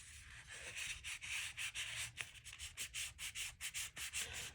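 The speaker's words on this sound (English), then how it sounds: "I'm just going to trim it just a sliver." A sliver being trimmed off a sheet of 12x12 paper for a junk journal pocket folio, a fast run of close, evenly repeated scraping strokes from a paper trimmer, with no voices.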